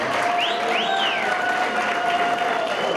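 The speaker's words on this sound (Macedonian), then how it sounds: "уште едно да ги поздравиме со еден аплауз" An audience at a masked-ball show applauds the prince and princess, steady dense clapping filling the whole stretch with a few thin whistle-like tones rising above it, no talk.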